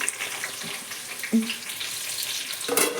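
Onion and green chilies frying in hot oil with cumin seeds, a soft continuous sizzle broken by a couple of louder bursts of crackling as the pan is stirred, with no voices.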